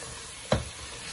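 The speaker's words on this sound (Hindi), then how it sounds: "इन चनों को भी 2 से 3 मिनट अच्छी तरह भून लेंगे।" Chickpeas frying in a pan for chana pulao, a steady low sizzle broken by one sharp stir or scrape at mid-point, close and alone.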